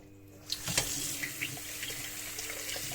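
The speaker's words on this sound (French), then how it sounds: "Tu les passes sous l'eau." Small stones rinsed under a running kitchen tap produce a continuous splash and water rush into a sink, close and moderately loud, with no talking.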